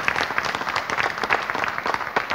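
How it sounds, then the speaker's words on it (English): Audience applause at the 2019 Blackpool Illuminations press launch: a dense, steady round of clapping from a gathered crowd, sustained throughout without speech. "applause for Simon"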